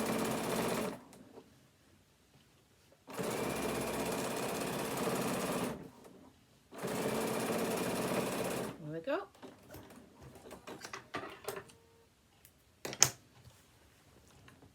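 A sewing machine stitches fabric for a phone stand in three steady, close runs of rapid whirring, each a few seconds long and separated by pauses. Faint handling noises and scattered clicks follow the last run.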